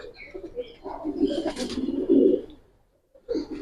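Giribaj pigeons coo in a loft, with several overlapping low rolling coos building and fading close by, a short pause, then cooing resumes, with faint chirps above.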